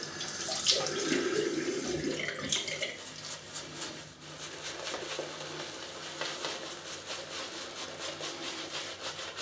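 Water runs from a tap in a steady, moderately loud rush while shaving soap is whipped into lather in a brush, with brief clinks and handling noises at the start and a voice in the background.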